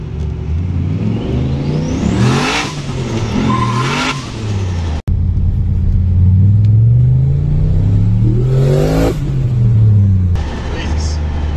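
An LS-engined car with a Borg Warner turbo pulls hard in first gear from low revs, a loud rising engine roar with turbo whine that climbs, breaks off briefly at a shift, then builds again close up.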